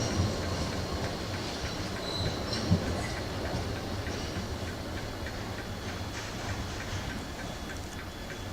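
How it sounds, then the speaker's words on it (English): A container train rumbles steadily nearby as it arrives at Ipswich station, its low broadband roar constant with faint rhythmic wheel clicks and a light squeal, no voices. "we got another container train coming in now"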